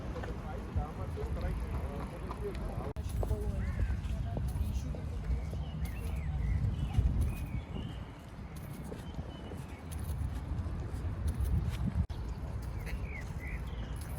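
Two horses clopping along a Vienna street beside a parked Tesla, a steady hoof rhythm under city traffic noise and nearby voices chatting.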